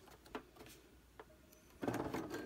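A sewing machine runs slowly through paper fabric for a tote bag, starting as faint, scattered stitches that swell into a steady, louder whirr in the last moments, heard up close and alone.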